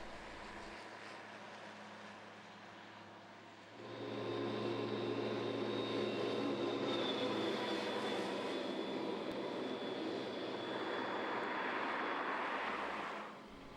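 A loader machine running short loading cycles with its transmission in position 2, a steady, fairly loud engine roar that swells after a quieter start and holds, with no voices.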